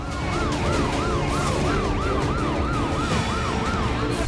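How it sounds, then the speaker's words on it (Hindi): Ambulance siren wailing in a steady, repeating up-and-down sweep at a Patna metro tunnel construction accident site, loud and close throughout with road traffic rumbling underneath and no talk. "एक के बाद एक एम्बुलेंस घायलों को अस्पताल पहुंचा रही है।"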